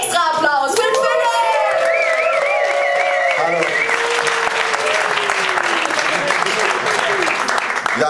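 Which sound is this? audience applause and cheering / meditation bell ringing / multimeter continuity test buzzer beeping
audience applause and cheering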